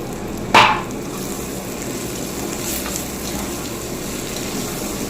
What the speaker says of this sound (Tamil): நம்ம இடித்து வச்சுருக்க சுண்டைக்காயை வந்து இதில் கொட்டி நம்ம நல்லா வதக்கிக்கலாம்